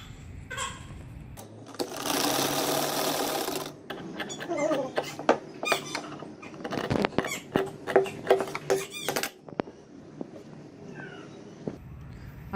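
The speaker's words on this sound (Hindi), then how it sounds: "दूसरी साइड कॉलर की सिलाई लगाएंगे।" A sewing machine stitches the collar of a six-month baby boy's shirt in a short, steady burst, followed by scattered clicks and fabric-handling noises close by.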